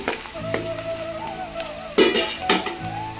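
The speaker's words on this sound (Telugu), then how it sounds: "ఇందులో ఉల్లిగడ్డలు మాత్రం బాగా వేగాలన్నమాట" Onions sizzling steadily in hot oil in a pan for red bagara rice, with short clatters of a utensil stirring against the pot.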